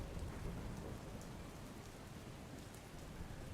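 Steady monsoon rain falls in a continuous soft hiss with a low rumble beneath, no voices, moderately quiet throughout.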